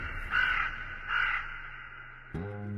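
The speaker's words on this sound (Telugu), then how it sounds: "కాకి ఈ రోజు ముద్ద పెట్టలేదమ్మా?" A crow caws twice in a film scene, two clear, separate calls at a moderate distance over a quiet background, followed by a low tonal hum near the end.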